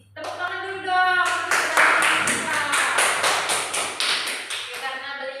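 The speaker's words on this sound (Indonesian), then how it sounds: "Tepuk tangan dulu dong" Classroom of students clapping in a twelfth-grade lesson, a dense run of hand claps lasting several seconds at moderate loudness, with voices talking faintly at the start.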